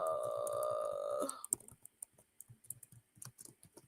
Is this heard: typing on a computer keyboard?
yes